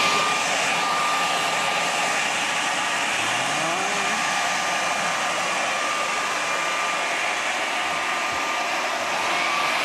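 A person's voice imitates a leaf blower, a gardening tool, with a steady, loud, breathy whooshing drone held for about ten seconds, close and without pause.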